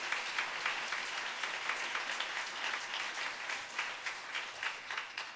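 A church congregation claps together at an evening worship service, a dense, even round of applause heard from a moderate distance and holding steady throughout.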